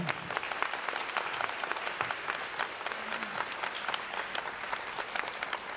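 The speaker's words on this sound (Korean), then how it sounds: "코로나 의료진들에게 우리 모두 박수 한번 보내겠습니다." A concert audience at a live broadcast claps steadily for several seconds, a dense, even wash of applause at a fairly close distance.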